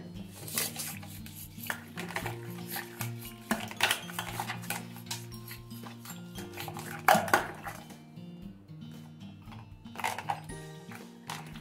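A spoon scrapes and clinks around a bowl of mango pulp being mixed with sugar, salt and cardamom powder, a steady close rubbing and tapping with occasional sharper knocks over a faint musical background.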